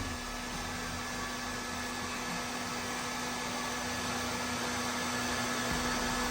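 A heating tool reheats powder paint, giving off a steady, close blowing hum and airy rush that stays constant and unbroken with no talking.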